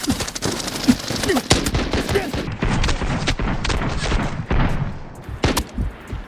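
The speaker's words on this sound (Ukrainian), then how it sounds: "Тільки там чути постріли, вони там." Gunshots in the shooter Arena Breakout Infinite rattle in dense, rapid volleys and scattered single cracks, loud and near at times, filling the whole stretch with brief faint voice fragments mixed in.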